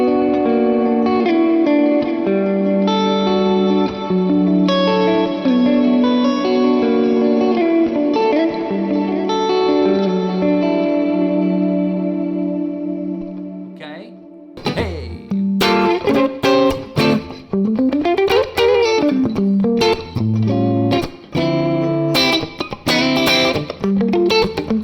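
Electric guitar played through a Neural DSP Morgan amp with delay and reverb: sustained ringing chords wash out for about fifteen seconds, then give way to choppy, rhythmic strummed and bent notes trailing echoes, loud and up close.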